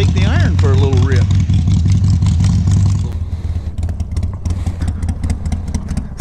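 An Iron 883 motorcycle engine runs at a warm-up idle after a long winter layoff, a steady close low rumble with a loose rhythmic throb while someone talks over it.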